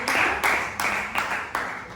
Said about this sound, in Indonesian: tepuk tangan dulu untuk Kak Aufa